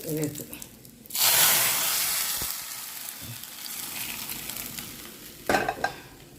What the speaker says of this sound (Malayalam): അടുപ്പിൽ വെച്ചതാണ് കടുക് ഇട്ടെടുത്തിട്ടുണ്ട്.